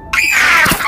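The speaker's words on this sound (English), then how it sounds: "Did y'all hear the scream?" A shrill, high-pitched scream bursts out in the horror game Amanda the Adventurer, starting abruptly and holding loud and sustained for under a second.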